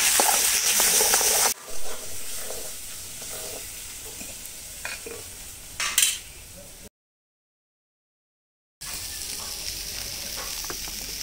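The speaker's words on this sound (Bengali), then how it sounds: "হলুদ গুঁড়ো, লবণ, ভালো করে একটু নাড়াচাড়া করে নেব।" Chana dal with turmeric powder and salt stirred in a hot pan: a close, steady sizzle with scraping spoon strokes and occasional clatter, interrupted by a brief dead gap before the frying resumes.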